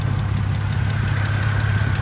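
A BMW E60 engine idles steadily and close by after a water pump replacement, a low even hum with a faint regular pulse and no voices.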